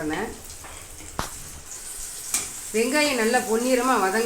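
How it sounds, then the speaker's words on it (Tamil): Onions sautéing in hot oil with fennel seeds for a chicken gravy give a steady, close sizzle with a couple of sharp clicks. A voice talks over the frying during the second half. "எண்ணெயை சூடு பண்ணிக்கிட்டு பெருஞ்சீரகம் பொரிஞ்ச உடனே நம்மளுடைய வெங்காயத்தை போட்டு வதக்கிடுங்க"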